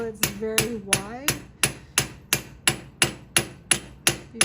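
A hammer strikes hot metal at a forge, about a dozen sharp ringing blows at a steady rhythm, close and loud, the first few leaving short metallic tones that ring on.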